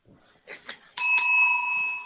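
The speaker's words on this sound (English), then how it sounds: "That little dinky bell." A small dinky bell, like a diner or reception desk bell, is struck once and rings out clearly with a long bright decay, after a few soft taps and rustles.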